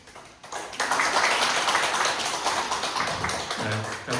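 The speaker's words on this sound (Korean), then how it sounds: "인사하실 때 박수로 환영해 주시기 바랍니다" A church congregation applauds at a Sabbath service to welcome a visiting pastor: a steady, dense patter of clapping from many hands in a room, starting after a short quiet moment.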